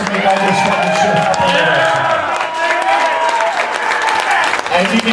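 Roaring concert crowd at the end of a metal set in a club, loud applause mixed with cheering and shouting voices, sustained and close.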